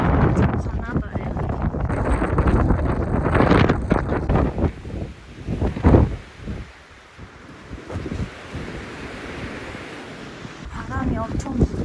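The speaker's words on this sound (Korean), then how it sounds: "바람이 엄청 불어." Strong wind gusts across the crater rim of the Ijen volcano in Indonesia, buffeting the microphone in loud, uneven rushes that briefly ease before building again, with a voice talking over parts of it.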